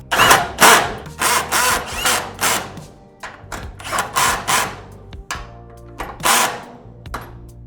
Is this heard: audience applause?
no